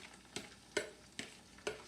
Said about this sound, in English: I'm going to allow it to fry for a bit while continually stirring it inside it